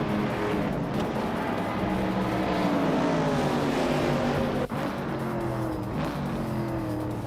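Race cars roar through a video game race, engines screaming continuously at high revs with tire squeal and cars passing close, loud and unbroken throughout.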